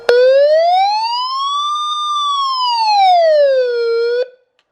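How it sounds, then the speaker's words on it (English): SOS siren from a ROCAM CR1009 emergency radio, a loud, close electronic wail that sweeps smoothly up and back down in one slow cycle before cutting off abruptly. "Last is the siren or SOS signal."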